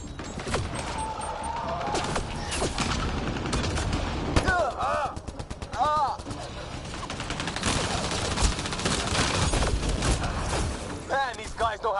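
Sustained firefight in Mass Effect: Andromeda, with dense overlapping gunfire, clattering impacts and bursts of mechanical noise running continuously while voices shout over the battle.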